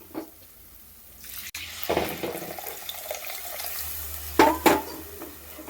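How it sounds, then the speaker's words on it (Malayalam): Tamarind water splashes into a hot pan of oil for fish curry with a brief sizzle, followed by soft stirring and a couple of sharper clatters near the end. "ഇനി പുളിവെള്ളം ഒഴിച്ചു കൊടുക്കാം"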